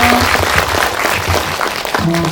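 An audience in a small indie cinema breaks into close, continuous clapping after a film talk, even and full for its brief length with a faint voice at the end.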